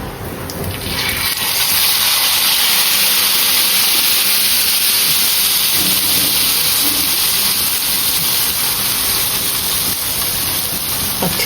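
Chutney added to a hot pan for tempering on a home gas stove sets off a loud, steady sizzle and hiss that swells after the first second and holds without a break.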